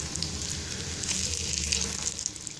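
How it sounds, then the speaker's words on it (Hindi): Chicken shami kabab patties frying in cooking oil over a very low flame, giving a steady, close, bright sizzle with no talking. "बिल्कुल लो फ्लेम पे मैंने इसे कुकिंग ऑयल में डाल के रख दिया था।"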